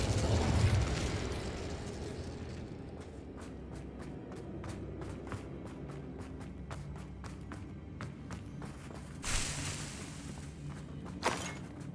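A burst of fire from the Incendio spell in the Hogwarts Legacy video game flares loudly at the start, then gives way to a run of quiet footstep-like taps and light clatter.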